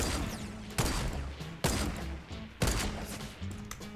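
Three loud, evenly spaced sniper rifle shots ring out in Fortnite: Battle Royale, each a sharp crack followed by a decaying echo and rumbling low tail.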